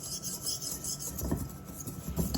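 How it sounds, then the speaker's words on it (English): Lumpy homemade Ovaltine cocoa whisked hard, a wire whisk rasping and scraping in quick, close strokes with a couple of heavier pulses toward the end. "if you kind of aggressively whisk here, you can get some of those lumps under control"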